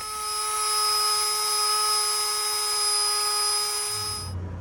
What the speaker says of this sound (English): So I'll sand that down and come back.